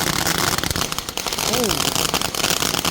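Fireworks at a 4th of July street display crackle and pop in a loud, dense, continuous barrage, with voices mixed into the noise.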